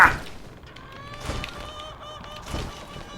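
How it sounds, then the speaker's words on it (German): Chickens cluck in the Western shooter game Call of Juarez: Gunslinger, a few faint, scattered squawks over low game ambience. "Hühner!"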